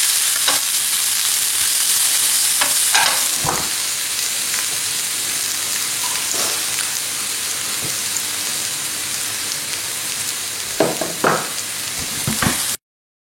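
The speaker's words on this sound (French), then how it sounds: "Je laisse revenir tout ça à feu moyen pendant 5 minutes" A shallot mixture sautés in a pan over medium heat, a steady close sizzle broken by occasional stirring clatters before cutting off abruptly.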